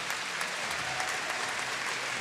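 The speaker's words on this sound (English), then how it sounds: "on va raccompagner ces joueuses et ces joueurs fabuleux sous les applaudissements du formidable public de Paris" Steady applause from the crowd at the 2014 French Open badminton in Paris, a dense, even wash of clapping that holds at moderate loudness throughout with no talk over it.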